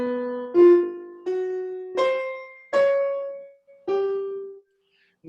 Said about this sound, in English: viola comes up with an arch phrase in tritones